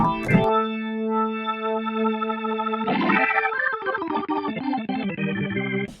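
A sustained Hammond-style organ chord from a Kurzweil SP6 digital keyboard rings out, then shifts into a rapid run of bright swirling organ notes with a warbling, rotating tone.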